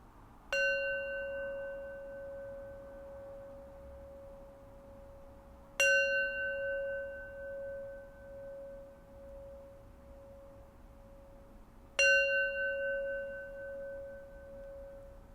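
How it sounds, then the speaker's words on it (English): A meditation bell is struck three times at even intervals, each strike ringing out clear and pure before slowly fading into quiet, with no voices. "So I'll close practice with 3 rings of the bell."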